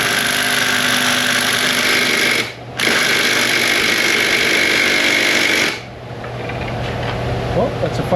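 A 3/8-inch 550 lb impact wrench hammers on a bolt in an auto repair shop, two loud sustained rattling bursts separated by a brief pause, close up.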